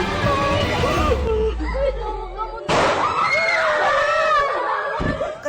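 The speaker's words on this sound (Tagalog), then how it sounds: "Kasunod ng sunod-sunod na putok ng baril ay umulingaw-ngaw na rin ang iyak at sigaw ng mga estudyante" In a classroom school shooting, gunfire pops ring out while students scream, wail and cry, with loud, overlapping, distressed voices filling the whole stretch and a sharp burst of sound partway through.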